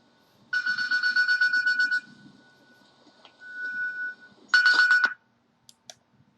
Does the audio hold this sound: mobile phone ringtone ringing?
yes